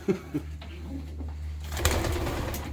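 Pigeons coo inside a coop, low soft murmuring calls close by with a couple of brief louder bursts at the start, steady background noise throughout.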